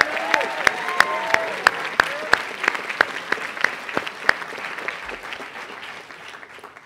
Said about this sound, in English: I think Mr. Rodriguez deserves a special round of applause.